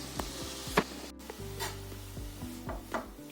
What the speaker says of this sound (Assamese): এইখিনি এতিয়া এনেকৈ অকণমান ভাজি ল'ম